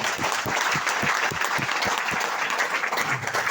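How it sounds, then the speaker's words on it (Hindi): An audience at a business network seminar claps loudly and steadily, a dense burst of applause filling the room with no speech over it. "एक बार कर दीजिए जोरदार ताली,"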